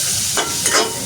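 Food frying in a pan crackles with a steady, close sizzle, broken by brief scraping swells as it is stirred.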